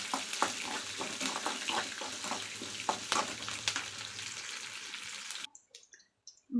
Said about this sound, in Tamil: வெங்காயம் நல்லா வதக்கிக்கலாம் ஃப்ரெண்ட்ஸ்.